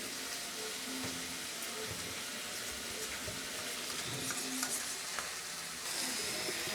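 Mustard and poppy seed paste hits a hot pan and sizzles, a steady, fairly quiet hiss of frying with faint stirring scrapes and no talking.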